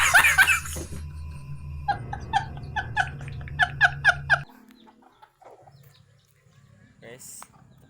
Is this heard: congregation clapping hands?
no